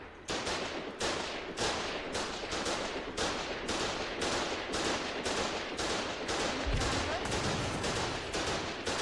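Machine-gun fire from a gun nest in the war game Foxhole, a steady run of rapid, loud bursts repeating about every half second for the whole stretch, with no talk over it.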